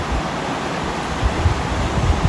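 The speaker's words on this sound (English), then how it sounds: "Look at this cool little thing, like a little waterfall." A small waterfall in a canyon in the Victorian High Country gives a steady, close rushing hiss of falling water, broadband and unbroken throughout.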